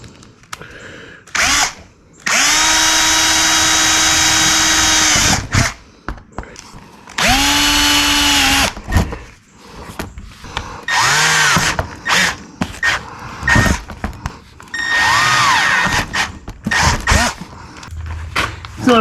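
A power drill bores holes into a car body for a stitch-style repair, with several bursts of steady whining drilling separated by short pauses and some clanking handling, close and loud.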